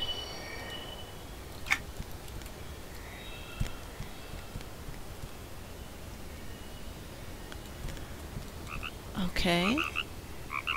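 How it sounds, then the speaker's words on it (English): A frog in a video game croaks in a noisy outdoor soundscape, giving occasional short sharp croaks and a clearer warbling call near the end. One brief spoken word comes in partway through. "Oh, look, a little froggy up there. Cute, little frog."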